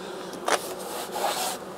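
Bees buzzing close by in a steady hum, with a brief scraping rub partway through and no talking.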